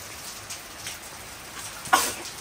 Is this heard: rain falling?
yes